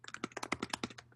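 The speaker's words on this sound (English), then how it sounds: "oh, somebody's typing" Quick, close keystrokes patter on a computer keyboard during an online call, a dozen or so light taps in an uneven burst with no one talking.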